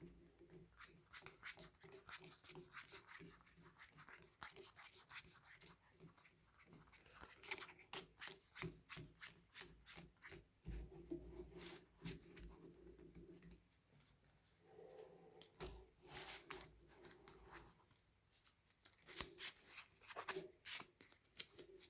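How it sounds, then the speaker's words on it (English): A Yu-Gi-Oh! card deck being power shuffled by hand, quiet and close, with rapid uneven bursts of card flicks and slides that come in clustered runs with brief pauses between them. "Let me just power shuffle real quick."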